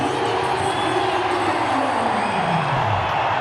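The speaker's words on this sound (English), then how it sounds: "The crowd's happy and about again." Loud cheering from a cricket stadium crowd, a thick close roar running straight through with a low swooping tone sliding down near the end.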